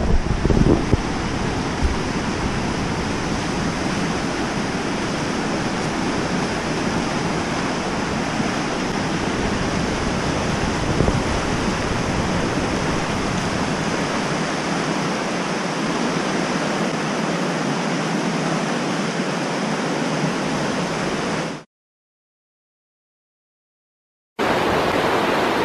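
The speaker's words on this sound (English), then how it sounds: "we're at the river." The river at Fall Creek Falls rushes with a loud, steady roar of broadband water noise, unbroken for about twenty seconds before cutting out briefly and resuming.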